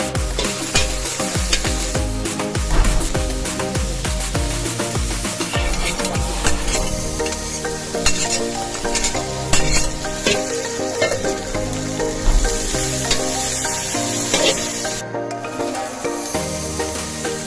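Dried chillies tempering in hot oil with other spices in a pan for a chickpea dish, a continuous loud crackling sizzle with sharp pops and the scrape of stirring, no voices.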